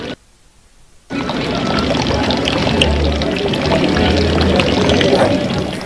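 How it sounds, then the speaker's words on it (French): Water flowing in a roadside gutter along a national highway in the Nyabagere area of Bujumbura, where people draw it; a loud, steady pouring rush begins after a second of near silence and continues without break. "Ils puisent de l'eau qui coule dans un caniveau se trouvant sur la route nationale numéro 1"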